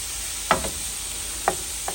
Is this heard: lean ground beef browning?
yes